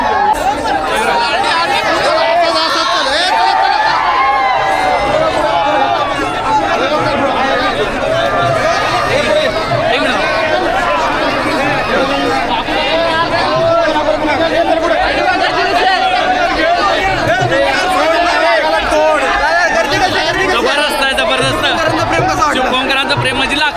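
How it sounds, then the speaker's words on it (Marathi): A large public crowd in Chiplun keeps up loud, continuous chatter, with many overlapping voices forming a close, dense babble with no pauses. "भाई गर्दी देखो गर्दी"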